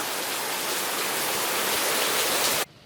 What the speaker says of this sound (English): Well, it's raining sideways.